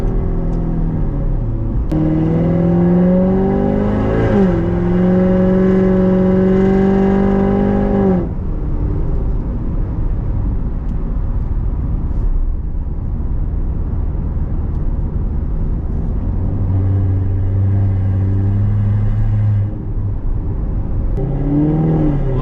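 A C7 Corvette Z51 V8 drops a gear on the road; engine revs climb and hold loud for several seconds, then settle into a steady rumbling cruise with another brief rise near the end.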